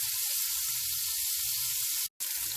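Green beans sizzle steadily in a hot pan, a continuous bright frying hiss with a brief cut near the end, close and alone with no talk.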